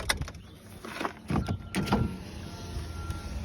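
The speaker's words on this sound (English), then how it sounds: "This one's auto down, but no auto up, down." A power window motor in an extended-cab Chevrolet Silverado with a converted power window setup whirs through a few short runs, with clicks and brief motor surges spaced across a few seconds, close by and alone.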